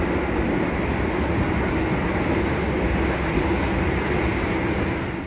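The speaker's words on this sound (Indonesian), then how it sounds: "Perjalanan kereta api Gajayana yang saya naiki telah tiba di stasiun Kutoarjo" Gajayana passenger train rolling into Kutoarjo station at night, a steady, loud, dense rumble of wheels and carriage noise heard from on board, continuous throughout without voices.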